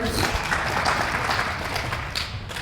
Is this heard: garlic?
no